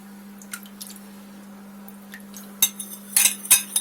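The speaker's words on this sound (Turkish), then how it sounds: "Onu iyice karıştıracağız." A spoon stirs milk and a spoonful of yogurt together for homemade cheese, giving soft wet clinks and squishy scrapes that build toward the end over a steady low hum.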